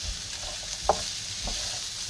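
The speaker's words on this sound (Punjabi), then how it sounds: "ਇਸਨੂੰ ਅੱਛੀ ਤਰ੍ਹਾਂ ਮਿਕਸ ਕਰ ਲਏ" A sizzling mixture for an Afghan-style breakfast fries loudly in a pan, with a few distinct scraping knocks from a spoon stirring it through the continuous hiss.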